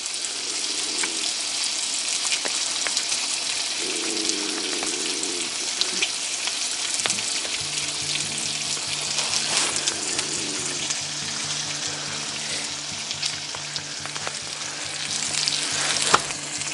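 Breakfast sizzles steadily on a carbon steel pan over a camp stove outdoors, a continuous close frying hiss with occasional clinks and stirring scrapes, plus a faint low hum toward the end.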